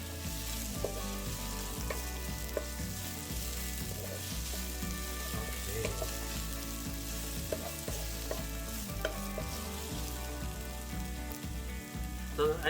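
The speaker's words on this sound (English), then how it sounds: "I love the smell of onion cooking." Chopped onions fry in vegetable oil in a pan for vegan japchae, giving a steady close sizzle broken by regular scraping and clacking of stirring, with no talking.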